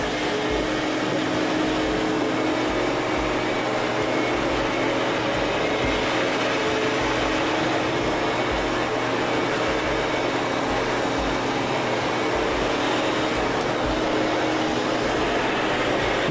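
A Sirena water-filtration vacuum cleaner runs over a carpet indoors with a constant whooshing drone and soft rhythmic low thumps as it is pushed back and forth.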